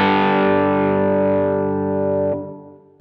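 A Heritage H150 electric guitar played through a Silktone tube amp with no delay rings out as one loud distorted chord that sustains, then is cut off abruptly near the end, with no voices.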